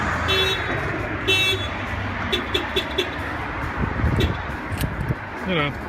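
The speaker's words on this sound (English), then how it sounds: "So anything that they open, the alarm will trigger." A newly installed van alarm sounds as a door is opened, giving a few short chirping bursts early on and again later against steady background noise.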